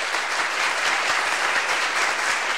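Audience applause for a singer at an awards event, a steady, dense round of clapping heard alone and evenly loud throughout.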